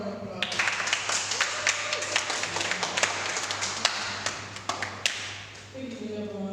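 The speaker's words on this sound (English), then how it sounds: "Give her a round of applause." An audience applauds at a 2023 poetry and storytelling event, with dense clapping and scattered louder claps over a steady low hum. The clapping fades out near the end as a voice begins to speak.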